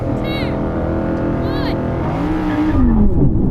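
Several Audi performance cars, an R8, RS e-tron GT, RS3, RS6, RSQ8 and RS5, launch together in a drag race, a loud sustained blend of engine roar and rising revs with a shifting whine. Voices talk over it.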